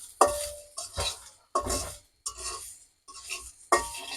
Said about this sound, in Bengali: কিছুক্ষণ আমি নারকেলটা ভেজে নিব